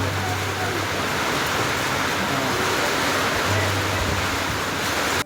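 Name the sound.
heavy rain with wind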